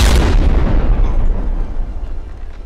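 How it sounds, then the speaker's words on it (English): A loud, close explosion in the naval combat game From the Depths, a deep booming blast with a rumbling tail that fades slowly over a few seconds. "And now we're blinded by the explosion."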